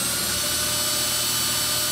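A power drill bores into a stuck plastic spa spinner jet assembly, making a close, continuous, even whirring drone that holds steady for about two seconds.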